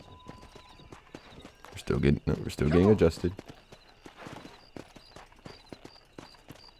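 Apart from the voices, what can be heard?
horse hooves during a horse race in video game Red Dead Redemption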